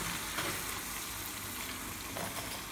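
Onion sizzles and fries in a simmering pot of arfissa with farm chicken, a constant close crackling hiss with no voices.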